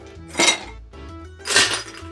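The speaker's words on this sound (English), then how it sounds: "I'm gonna fill it up with ice." Ice cubes dropped into a tumbler glass while mixing a Campari summer cocktail, giving two distinct clattering clinks close up, with no one talking.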